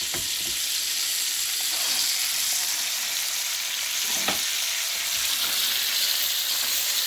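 Lobster tail and claws fry in a pan for a seafood stew, giving a continuous, even sizzle close by with a few faint clicks of handling.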